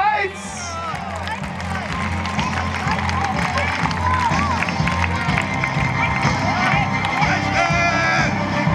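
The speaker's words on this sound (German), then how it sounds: "Applaus für Eberhard!" Spectators at a children's knight tournament clap and cheer in a lively, continuous wash of crowd noise, with shouting and chatter mixed throughout.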